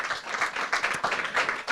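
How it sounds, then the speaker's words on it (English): Lively applause from a crowd at a book launch event in Singapore, with dense, uneven clapping that swells and dips in quick waves, close and fairly loud throughout. "Round of applause, please."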